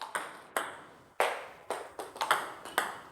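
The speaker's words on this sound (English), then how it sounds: "backspin is a brushing sound." Table tennis ball struck with backspin on a racket, a series of about eight soft brushing contacts at an uneven rally rhythm, close and clear with no talk.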